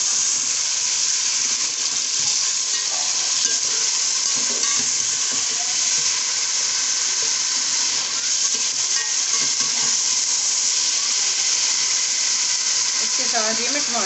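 Masala for aloo gosht pulao frying steadily in a pan, a continuous loud sizzle with occasional stirring scrapes throughout, and no voice in the foreground.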